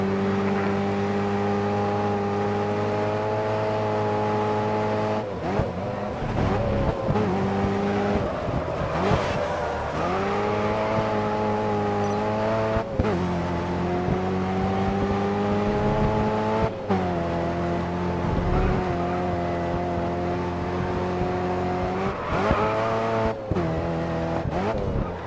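A race car lapping in the GRID Autosport video game roars continuously, its engine pitch climbing through the gears with sharp dips at each shift and braking, steady and loud with no voices.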